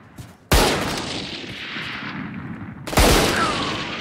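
Two loud, sharp gunshots in the tactical shooter Valorant, each with a sudden crack followed by a long echoing decay, spaced about two and a half seconds apart with no talking.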